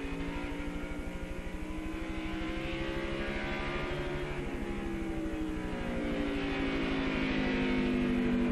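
Several stock cars roar past at Indianapolis Raceway Park during a NASCAR Busch Series race, a steady, fairly distant blend of engine drones with gliding pitches, swelling slightly toward the end.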